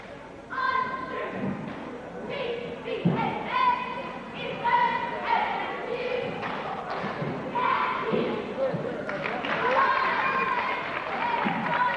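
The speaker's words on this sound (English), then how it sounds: "they're doing a good job of getting their crowd fired up tonight" Crowd cheers at a 1988–89 high school girls' basketball game between Gate City and Powell Valley, stirred up by cheerleaders, with rhythmic chants, claps and thumps echoing through the gym.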